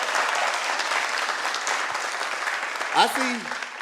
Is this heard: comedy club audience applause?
yes